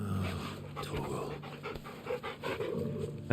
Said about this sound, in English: Pet the dog.